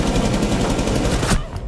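Rapid automatic gunfire in a Rainbow Six Siege esports match, a dense, loud burst of closely spaced shots rattling for over a second before cutting off abruptly.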